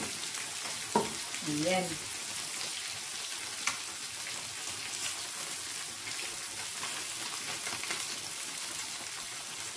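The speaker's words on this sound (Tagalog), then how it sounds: "dito sa kabila, nagluluto ako ng pritong isda" Fish frying in a pan with okra about to go in, a steady soft sizzle throughout with a few brief stirring clicks and a short spoken word.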